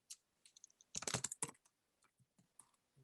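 Keys clacking on a computer keyboard as pseudocode is typed, a dense burst of quick strokes followed by scattered single taps, close and fairly quiet, with no voices.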